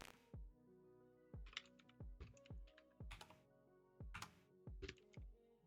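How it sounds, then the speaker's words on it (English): Typing on a computer keyboard during a programming session, with loud, close keystrokes in bursts and short pauses, some heavier thunking presses standing out, and no talk over it. "You can keep typing there."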